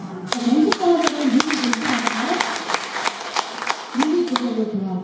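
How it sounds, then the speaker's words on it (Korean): Audience applause in a Korean lecture or talk setting, with steady clapping from many hands for several seconds, the speaker's voice running over it. "눈이 제자리로 돌아왔고 여러분이 박수 치시는군요."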